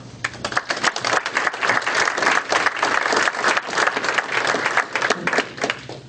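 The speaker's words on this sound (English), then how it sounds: "let's give a round of applause to our legislators" At a chamber of commerce legislative breakfast, a modest audience claps for the legislators, fairly close, irregular individual claps forming a lively round of applause over a low room hum.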